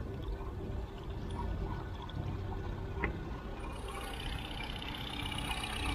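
Old coolant water pours steadily out of the cooling system of a Volkswagen car (Spacefox, Fox, Gol, Saveiro or Polo) during a radiator flush, a continuous splashing flow over a low engine idle, with no talk.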